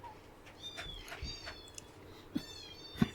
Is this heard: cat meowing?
yes